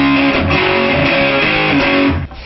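An electric guitar with distortion plays a riff in loud, chugging rhythmic bursts of chords, close and dry, ending with a short fade.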